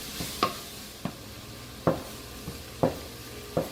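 Vegetables sizzle softly in a pan of pork ragu while a utensil stirs and scrapes them in irregular, sharp strokes, about five or six distinct scrapes over a quiet, steady frying hiss.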